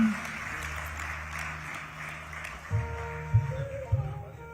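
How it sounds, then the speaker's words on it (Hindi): Audience applause at a felicitation ceremony at Hotel Pullman, Aerocity, where a memento is presented: steady, moderately loud clapping with a few louder bursts near the end and faint voices in the background. "तालियों से अभिवादन।"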